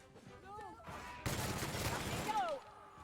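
Sustained burst of gunfire from a PC shooter game, dense and loud for over a second before fading, with a voice talking around it and a short whistling tone near the end.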